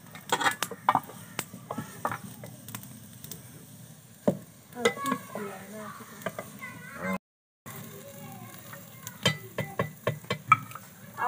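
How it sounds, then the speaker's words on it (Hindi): Spices tempering in a pan for tadka, soft sizzling with stirring and clinks of a utensil against cookware, close and fairly quiet, with brief talk. "इसको निकाल लें, इसको थोड़ा तड़का लगाएं।"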